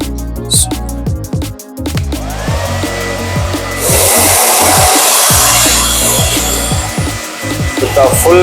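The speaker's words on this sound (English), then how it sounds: "we will start doing our blow dry" A hair dryer blows at full heat and full speed while styling hair after a haircut, a loud, steady broadband rush that starts partway through and holds to the end, with a voice heard alongside it.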